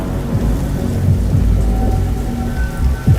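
Steady rain patters on a surface while deep thunder rumbles roll through low and continuous, loud and close with no voices.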